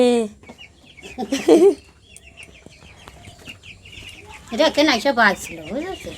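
Broiler chickens cluck in two loud bursts close by inside their coop, with quieter scattered clucks and chirps between them in the enclosed space.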